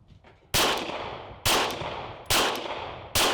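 Four loud, close gunshots from a PSA Dagger pistol firing 147 grain PPU jacketed hollow points, spaced roughly evenly under a second apart, each with a sharp crack and a decaying outdoor tail.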